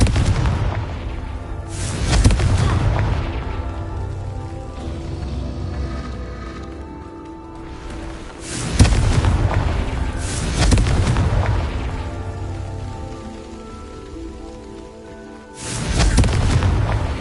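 Confringo spell explosions in Hogwarts Legacy strike three times at spaced intervals, each a loud, deep boom with a long rolling rumble that fades before the next blast.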